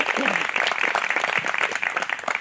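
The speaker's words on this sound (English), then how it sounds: "I want to give you guys a round of applause right now today too" Sustained, dense applause from the audience at the 2020 Miss Dinuba pageant, honoring the contestants' families and friends. The clapping holds steady and full throughout, with no talking over it.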